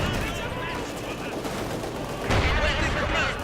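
Machine gun fire crackles through a Company of Heroes 2 battle, a dense continuous rattle of automatic bursts and gunshots that swells louder near the end, with a commentator's voice running over it.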